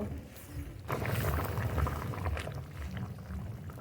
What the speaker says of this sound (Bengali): গরম জল এবার খুব ভালোভাবে জাল দিয়ে নেব